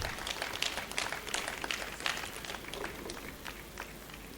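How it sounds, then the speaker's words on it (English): An audience at a university alumni colloquium and awards event applauds as a panelist is welcomed, a soft, distant patter of many hands that fades gradually. "can you give her a round of applause, please?"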